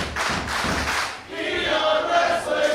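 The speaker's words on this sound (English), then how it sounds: "Crowd showing their appreciation for both of these competitors." A women's wrestling crowd cheers and calls out loudly throughout, with a swelling roar of voices, some clapping and thuds from the ring.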